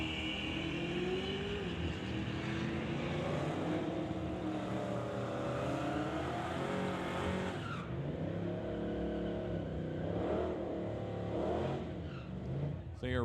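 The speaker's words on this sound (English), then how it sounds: "He's in the Studebaker, 66 Studebaker on the Lordco side of the racetrack." A 1966 Studebaker drag races at the Langley Loafers Old Time Drags, its engine revving and rising in pitch under continuous announcer commentary, with crowd and track noise behind.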